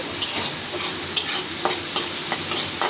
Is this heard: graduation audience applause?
no